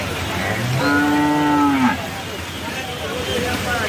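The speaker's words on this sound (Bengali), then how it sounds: "অনেক গরু ছাগল নিয়ে আসছে, অনেক বড় বড় গরু আছে" A single cow gives one long, drawn-out moo lasting about a second at a livestock fair, close and clear above a steady background of crowd murmur.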